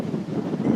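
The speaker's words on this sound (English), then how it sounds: "Wow, it is very windy today." Strong wind blows outdoors beside a shipping container at an oxygen generator factory, a steady low rumbling roar with gusty buffeting across the whole short stretch, close to the microphone.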